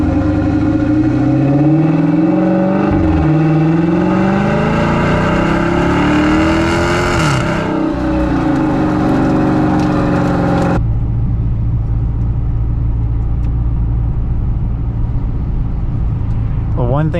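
A Dodge Challenger R/T driven in snow revs hard through the gears, its engine note climbing, dropping at each shift, then climbing again. It settles into a lower, steady drone at the end.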